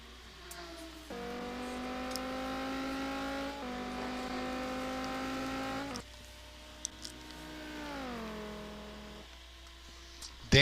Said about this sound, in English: Dan driving the Dodge Viper GTSR car this season